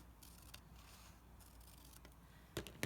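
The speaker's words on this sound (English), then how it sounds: "Scissors and cutting requires that we are manipulating both hands at the same time." Scissors cut a paper strip in a quiet room, giving soft faint snips with a few sharper clicks of the blades closing near the end.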